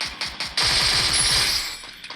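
Rapid automatic gunfire in the battle royale video game Free Fire, a dense close burst of about a dozen shots lasting around a second, with a few scattered single pops before and after.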